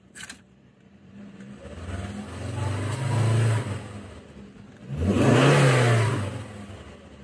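Engine of a 2006 Volvo S40 with a top-end power fault, revved twice in the engine bay, each rev climbing to a loud whirring roar and falling back to idle, heard up close.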